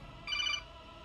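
A mobile phone rings once in a short electronic trill during a tabletop game session, brief and fairly faint over low room noise.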